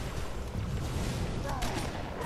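Shotgun blasts in Halo 3 combat come through as dense, rough bursts of gunfire mixed with battle noise. The blasts are loud and close, running continuously for a couple of seconds with a faint voice underneath.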